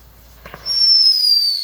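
A homemade whistle rocket firework with only one motor lit spins on the ground, giving off a brief crackle and then a loud, sustained high-pitched whistle that slowly drops in pitch.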